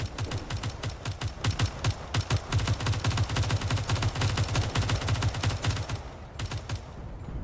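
A field cannon in the video game Space Engineers fires in a rapid, sustained volley of sharp, punchy shots that stays loud and steady for several seconds, then thins to a few scattered bursts.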